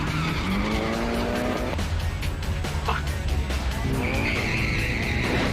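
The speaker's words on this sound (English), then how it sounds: "With the tyres giving way too much grip on the skid pan during the super slalom, Shane couldn't get the car around the cours" Car tyres squeal and skid on a wet skid pan during a super slalom, long sustained screeches rising and falling as the car slides through the turns, loud and close, with engine noise underneath.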